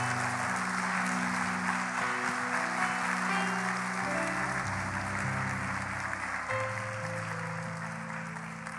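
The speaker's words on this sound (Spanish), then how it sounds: "Dele un aplauso al Señor bien fuerte." Church congregation giving loud, sustained applause to the Lord during a sermon, dense clapping over a held organ or keyboard chord that shifts in pitch, tapering slightly at the end.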